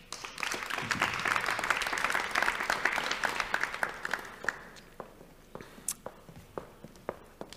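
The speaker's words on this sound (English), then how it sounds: "Please applause for Erik Kessels, Nanja van Rijs and Fleur van Mijswinkel" Audience applause for three guests walking on stage at an evening discussion event, a loud, dense round of clapping that thins into scattered individual claps with footsteps as it fades.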